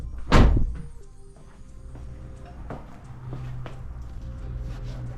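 A Renault Clio MK4 hood is opened after its gas strut is replaced, heard as one sharp close thunk followed by a low mechanical rumble and faint clicks.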